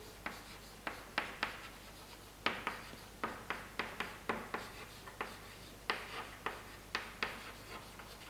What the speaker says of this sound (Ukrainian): На першому місці я пишу хром. На другому місці пишу групу OH.